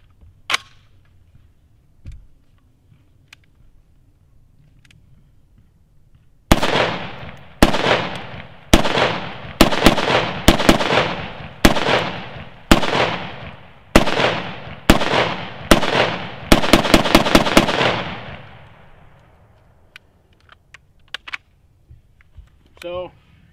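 A Tavor rifle fires a string of about a dozen loud, close shots fed from a Magpul PMAG D60 drum magazine. The shots come at a steady pace, then as a quick burst near the end, after a quiet stretch with only faint handling noise.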